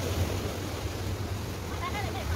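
Large ocean waves surge and crash below a suspension bridge in Kennedy Town, Hong Kong, a continuous low roaring wash mixed with wind buffeting the microphone, with no clear individual breaks.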